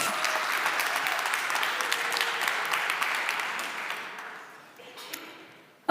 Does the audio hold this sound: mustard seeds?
no